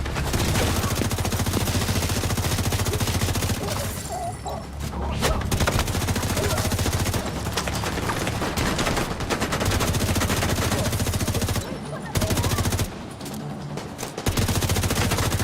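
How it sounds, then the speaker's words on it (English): Sustained gunfire from The Division video game, set in Brooklyn: dense, loud bursts of automatic weapons fire rattle almost continuously, with a few brief lulls between volleys. "Just gonna shoot their ankles."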